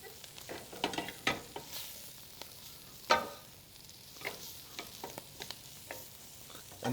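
Strips of cut greens stirred in a hot pan, giving soft scraping stirs and light sizzling at low level, with a few sharper clacks from the utensil and no talking.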